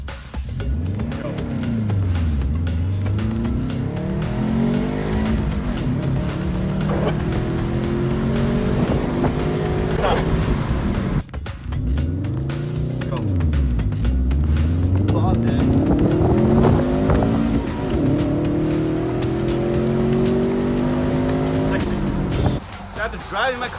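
A Subaru WRX fitted with a lightweight crank pulley drives hard, its engine loud and close, rising and falling through repeated revs and gear changes for over twenty seconds with a short break midway.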